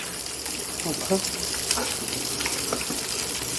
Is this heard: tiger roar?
no